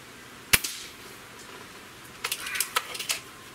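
Two sharp reports from a Gamo Swarm Viper Gen3i air rifle during a ten-shot group test: a loud crack early on, then a quieter run of clicks and snaps from the action or the pellet hitting the target.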